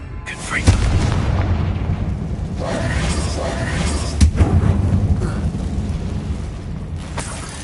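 A Bombarda blasting spell in Hogwarts Legacy goes off inside an abandoned, tomb-like mine, giving loud rumbling explosive booms with sharp bursts near the start and again midway over a continuous low roar.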